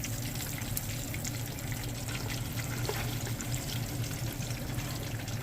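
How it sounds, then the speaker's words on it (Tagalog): Pork intestines deep-fry in oil with a continuous, even sizzling hiss that holds steady throughout, close by and without speech. "I-deep fry natin."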